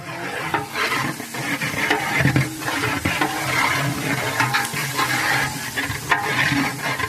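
A large pot of vadi biryani is stirred vigorously, giving a continuous, dense churning and scraping with a soft sizzle underneath. It is fairly loud and close, with no voices.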